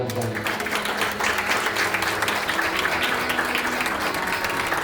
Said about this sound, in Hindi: खुदावंद के जलाल के लिए जोरदार तालियां बजाएं।